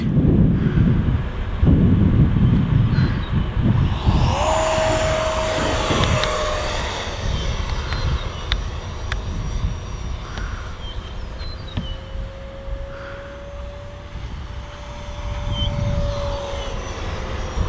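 An F-16 Falcon RC fighter jet's electric ducted fan whines as it takes off from the ground and flies, rising in pitch and then sweeping past in steady passes, with wind buffeting the microphone and no talking.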